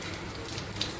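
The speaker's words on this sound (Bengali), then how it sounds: "সর্ষের তেল দিলাম, একটু জিরে ফোড়ন দিলাম" Cumin seeds sizzling in hot mustard oil, a steady close crackle and spitting hiss with no pauses across a brief moment.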